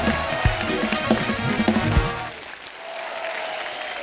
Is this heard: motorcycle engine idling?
no